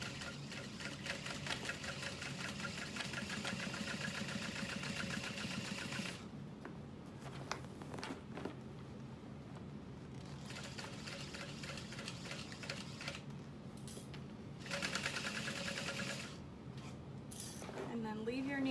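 Sewing machine running slowly on a bucket bag, a steady mechanical rattle of stitching with brief pauses and clicks, a voice talking over it at times.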